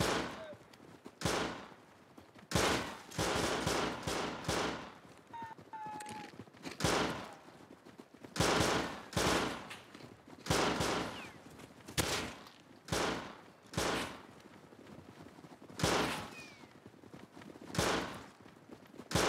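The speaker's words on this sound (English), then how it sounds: "I'm liking my gunshot" Gunfire in a building-and-shooting video game: repeated loud bursts of shots in irregular clusters across the clip, with excited voices talking over the action.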